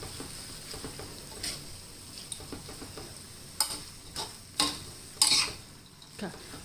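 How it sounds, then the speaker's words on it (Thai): Thin rice noodles being stirred in a hot pan with pork and vegetables for a Thai stir-fry, a steady sizzle broken by several scraping, clattering stirs, close and fairly loud. "เส้นเล็กค่ะลงไปค่ะ คนค่ะ"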